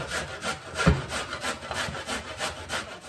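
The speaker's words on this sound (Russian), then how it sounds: "В первую очередь берем морковку на мелкой терке." A carrot is rubbed on a fine kitchen grater in steady back-and-forth rasping strokes, close and fairly loud, with one dull knock partway through and no talking.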